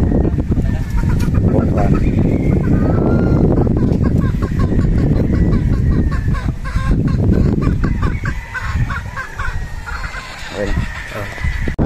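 A Golden Boy Sweater gamefowl pullet with a double nose mark, up close at a gamefarm, giving a dense run of loud clucks and gobble-like calls, with a voice speaking briefly over them.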